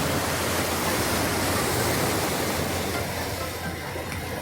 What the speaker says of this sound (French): Avec les vagues extraordinaires comme en mer.